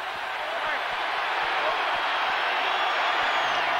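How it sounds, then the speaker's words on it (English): Cougar fans fill a stadium at the 1996 WAC Championship football game with a steady, dense roar of crowd noise that holds throughout. "the crowd making some noise"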